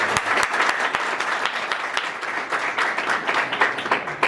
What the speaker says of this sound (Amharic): እስኪ ለነሱ ሞቅ ያለ ጭብጨባ